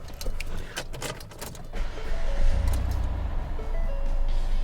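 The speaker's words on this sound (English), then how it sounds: "We're going to start this Escape up." A 2012 Ford Escape XLT starts up inside a dealership: keys jangle and a warning chime sounds first, then the engine turns over and settles into a low idle rumble, close by.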